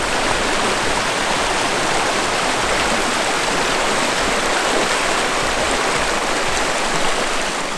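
A winter waterfall in snowy woods pours with a steady, dense rushing roar, loud and close, unchanging from start to finish with no voices over it.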